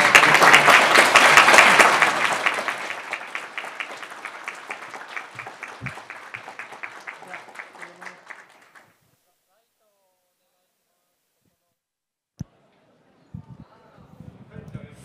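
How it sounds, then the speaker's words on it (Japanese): A large audience at the PyCon JP 2022 closing claps for the conference staff, strong at first and thinning into scattered claps before fading to silence, followed by a few faint knocks. "スタッフ皆さんに拍手をしていただければ"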